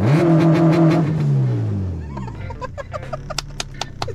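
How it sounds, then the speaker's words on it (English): Car engine revved hard with the clutch held in, a loud steady roar that drops away and gives way to crackling pops and bursts from the exhaust. "Rev it while clutching. Just rev it."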